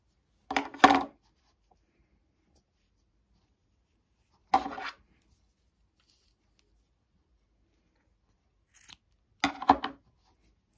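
Scissors snip through pieces of crochet yarn, trimming them to equal length: three short bursts of close cutting spread across a quiet stretch, the last a quick double snip.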